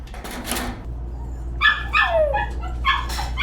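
Dog inside an animal transport truck, a bus converted to carry animals, giving several close, sharp yips and whimpering barks in quick succession over a low vehicle rumble.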